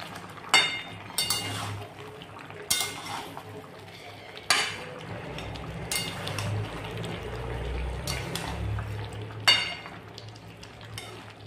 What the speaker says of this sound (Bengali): একটু নেড়ে দিলাম, আবার ঢাকা দিয়ে রাখি।